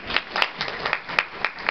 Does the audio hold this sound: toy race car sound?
no